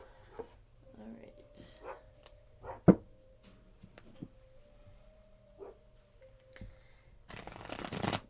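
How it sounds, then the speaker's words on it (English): Tarot cards being shuffled at close range in short, quiet riffles and taps, ending in a louder burst of rapid shuffling, with faint dog noises now and then. "3 shuffles and then I will start hand shuffling"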